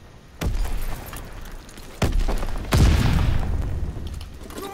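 A Call of Duty WWII battlefield with a grenade blast: three sharp, loud bangs in close succession, the last a heavy, booming explosion that rumbles and decays into lingering combat noise.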